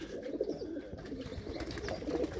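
Pigeons cooing softly while being bathed in a water tub, low murmuring calls with splashing and movement close by, no talk.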